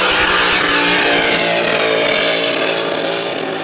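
A race car engine held at full throttle during Grand Prix time trials at Valleyfield, a loud, sustained high-pitched roar that barely fades over a few seconds, with no talk.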